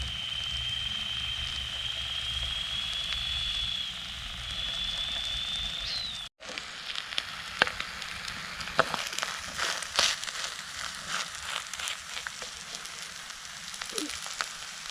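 Two eggs fry in a small camping pan with softened onions, a steady close sizzle and crackle that carries on throughout, broken by a short gap partway.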